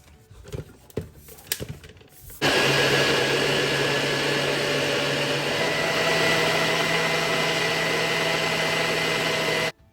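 A blender whirs steadily through homemade tomato sauce with fresh ginger and garlic, starting abruptly after a few seconds of light clattering and running loud and continuous, close by, to the end.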